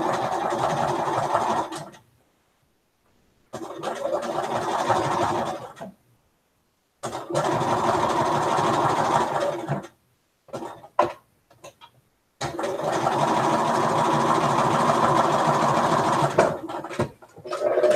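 A sewing machine stitches a quilt seam in several loud, steady bursts of a few seconds each, separated by short pauses, with a brief cough or throat clearing in one gap.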